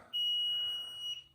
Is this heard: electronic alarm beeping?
yes